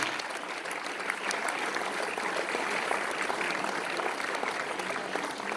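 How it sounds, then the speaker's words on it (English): At a girls' final results ceremony, an audience applauds as three people are called on stage, a continuous, even hiss of many hands clapping at a distance, fairly quiet and unbroken throughout. "Round of applause, ladies and gentlemen."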